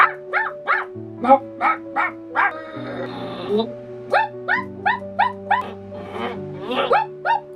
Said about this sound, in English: this dog next door, I can't stand it. It's always barking.